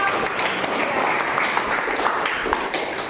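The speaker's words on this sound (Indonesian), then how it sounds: "Ya, tepuk tangan buat kelompok." A classroom of students clapping for a group after its presentation, a continuous moderate patter of many hands that stays fairly even throughout, heard alone without talk.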